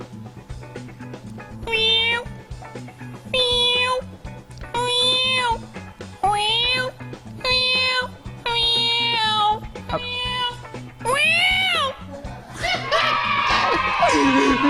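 A man imitates cat and kitten meows into a microphone at a tattoo studio, giving a series of about eight rising and falling mewing calls in a steady rhythm over a low background hum. A crowd cheers loudly at the end.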